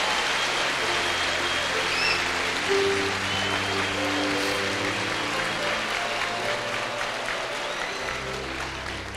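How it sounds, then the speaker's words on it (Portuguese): A church congregation at an anniversary service gives a long, steady wash of applause, dense and even like rain, with a low sustained tone running beneath it. "Dá uma salva de palmas ao Senhor aí."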